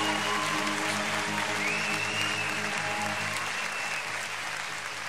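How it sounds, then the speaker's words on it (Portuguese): Church congregation applauding vigorously during a worship session, a continuous broad wash of clapping mixed with sustained music underneath. "Aplauda, Senhor, com toda a força."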